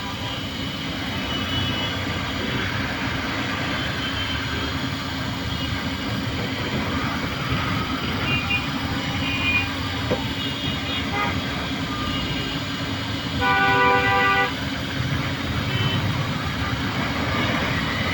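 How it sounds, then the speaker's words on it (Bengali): Heavy traffic jam on a road from Chourasta to Tejgaon: a constant low rumble of idling and crawling vehicles, engines droning near and far, with a brief horn or beeping sound partway through. "প্রচণ্ড জ্যাম, প্রচণ্ড জ্যাম"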